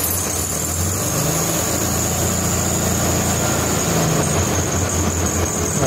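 A Volkswagen single-port 1600cc engine running on a dynamometer, a steady, loud, continuous engine drone with broadband mechanical noise and no change in pace.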